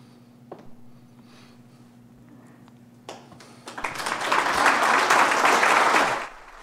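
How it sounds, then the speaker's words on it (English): A town crowd applauds in encouragement for the Halton Hills mayor, who will not run for re-election. After a quiet stretch the clapping swells into a loud, sustained round of applause, then stops abruptly. "the mayor took a few moments as the crowd applauded in encouragement"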